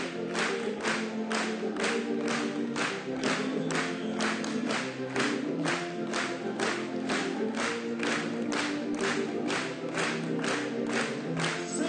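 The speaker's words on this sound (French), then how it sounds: "Acclamons encore pour lui une fois" A French-speaking church congregation claps in a steady, even rhythm, about two claps per second, with a sustained tone of singing or music running underneath throughout.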